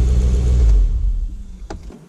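Swapped V8 engine and exhaust of a Porsche 986 Boxster track car, a loud low engine rumble that holds steady, then eases off with a brief sharp blip near the end.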